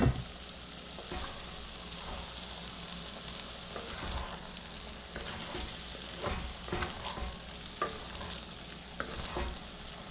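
Brinjal and mixed vegetables frying and sizzling in a pan, a steady bright crackle broken by occasional stirring knocks and scrapes, close up with no voices.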